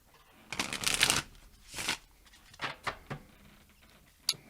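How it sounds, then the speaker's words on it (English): Tarot cards being shuffled and pulled for a spread, heard as a dense riffling burst followed by several shorter, softer card slides and flicks, close and with no talking. "So I'm going to pull some cards and do a spread about your lover house."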